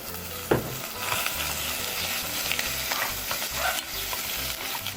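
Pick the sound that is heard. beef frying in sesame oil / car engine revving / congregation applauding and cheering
beef frying in sesame oil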